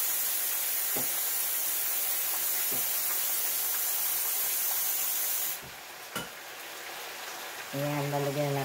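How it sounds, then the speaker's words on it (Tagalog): Water poured into a hot pot of chicken tinola, a steady rushing hiss and sizzle that drops in level partway through, with a few clanks of the pot and a voice heard at the end. "lalagyan na natin ang tubig"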